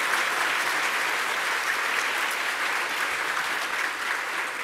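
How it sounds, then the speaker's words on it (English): A keynote audience applauds at the closing of GCAP 2017, a dense, steady clapping that stays loud and constant throughout with no voices standing out. "You can give them a round of applause."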